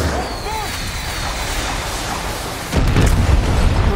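Fuel tanks blown up by gunfire in the shooter game Far Cry 6, a rumbling burst of explosions with a heavy boom arriving near the end, loud and full against a background of game noise.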